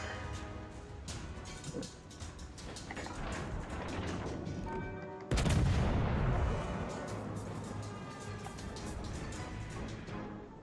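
Heavy naval guns boom in a battleship game, an Italian Andrea Doria firing shells amid a steady din of battle, with one especially loud deep salvo landing midway and repeated gunfire continuing after.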